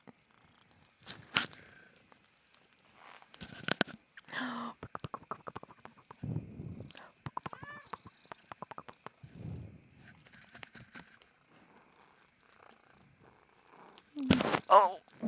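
A pet cat purrs indoors at close range, a soft continuous purr broken by scattered clicks, rustles and thumps, while a voice talks now and then.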